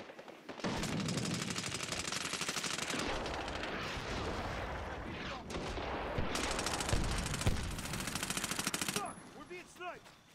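Dense, rapid gunfire rattles almost nonstop in the military shooter Medal of Honor: Warfighter, with sharp cracks and booms over a continuous battle din and a shouting voice amid the shots.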